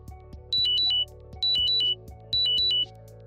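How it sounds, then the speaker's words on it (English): Three bursts of a bright, repeating electronic chime from a phone as the FreeStyle Libre 2 app raises a glucose alarm, each burst a quick rising-falling tone pattern, close and clear with nothing else around it. "When the alarm presents a notification on your phone"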